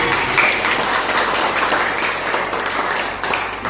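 A church congregation breaks into dense, continuous applause during a sermon, the many hands blending into a steady, loud roar that holds throughout.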